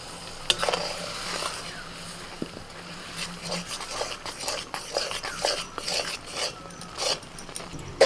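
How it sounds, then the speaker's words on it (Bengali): Rice flour is stirred into boiling water with salt, chopped coriander and a spoon of oil to form a stiff dough, producing soft, uneven scraping and mixing sounds over a faint bubbling sizzle, with no one talking. "চাল গুঁড়ি দিয়ে গরম জলের মধ্যে এইভাবে মেখে নিতে হবে"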